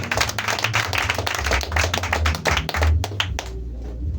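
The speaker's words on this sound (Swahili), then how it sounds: "Ya Yesu makofi mazuri." A church congregation applauds together in a dense, steady burst of hand claps that stays loud and close for several seconds, then thins out and tapers off near the end.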